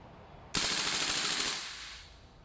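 VFC Knights Armament SR-16 E3 MOD2 CQB airsoft gas blowback rifle firing full auto: one sharp onset into a fast rattling burst lasting about a second, then tapering off, close and loud.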